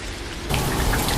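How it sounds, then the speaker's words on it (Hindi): Heavy rain falls steadily outside, a dense, even hiss of drops that swells slightly louder partway through the short stretch, with no voices. "बाहर बहुत तेज़ बारिश हो रही थी।"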